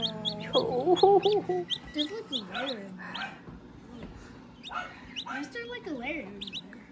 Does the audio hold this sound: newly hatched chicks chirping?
yes